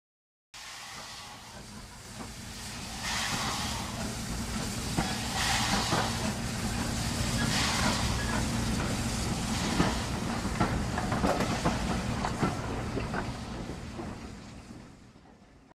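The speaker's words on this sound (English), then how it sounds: "Gordon thundered into the station with the returning Nor'western" A steam locomotive hauling the returning express pulls into a railway station, a steady heavy rumble with hissing steam and faint wheel clatter that swells and holds for about fifteen seconds, with no talking.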